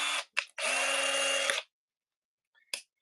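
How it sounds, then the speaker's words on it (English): A basic two-speed power drill whirs in short bursts: a quick blip, a second brief spurt, then a steady high whine for about a second. After a pause there is one last faint, momentary rev, all close and alone. "One basic drill."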